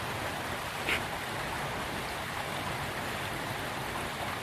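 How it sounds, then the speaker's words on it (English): Mission Creek, a small river, flowing steadily: a continuous broadband rush of water close by, even and unbroken throughout the few seconds, with no voices. "I'm walking by a nice little river, Mission Creek it's called."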